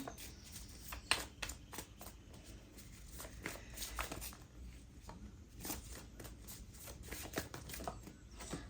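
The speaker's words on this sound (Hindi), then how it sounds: "We have to shuffle again." Tarot cards being shuffled by hand during a reading, a soft papery riffle with scattered light taps and flicks, steady and close but quiet, with no talking.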